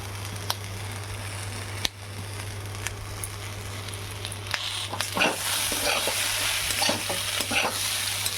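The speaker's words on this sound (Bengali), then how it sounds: "এটা আমি নুন হলুদ দিয়েও ভালোভাবে এবার ভেজে নিয়েছি" Mixed vegetables such as eggplant, radish and long beans frying in a pan with salt and turmeric, a steady sizzle with scraping stirs that grow livelier and more frequent toward the end.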